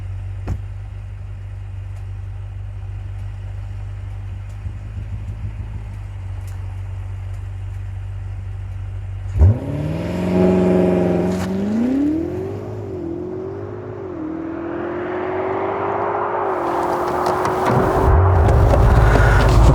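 A BMW M5 Competition launches hard on a full-throttle 0 to 100 run, the engine note climbing through gears after a quiet idle, rising louder and higher to a loud, sustained roar near the end.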